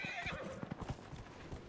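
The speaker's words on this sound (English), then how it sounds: "I do have to ride up this mountain, though, and I don't know how that's gonna go on my horse." A horse in Dragon Age: Inquisition clip-clops up a mountain path, with quick hoof beats and a whinny over game ambience, close and fairly loud.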